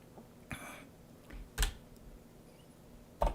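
A few isolated clicks on a computer keyboard, sparse and fairly close, with quiet room noise in between and no steady typing rhythm.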